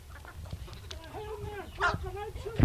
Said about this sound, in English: have you talking hens too, Packy?